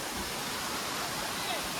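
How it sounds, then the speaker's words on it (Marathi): A small waterfall near a Sahyadri temple roars as steady, close, broadband rushing water with no pauses. "अरे इथे पण धबधबा है छोटा सा का होईना पण भारी है"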